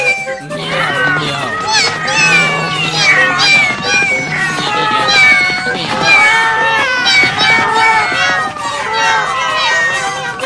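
A crowd of cartoon cats meowing together from the Ninja Hattori show, dense overlapping high mews and yowls filling the scene loudly and continuously, with voices mixed in among them.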